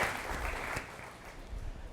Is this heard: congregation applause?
yes